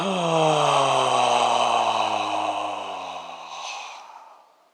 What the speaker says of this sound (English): Let's inhale deeply together through the nose. And exhale through the mouth.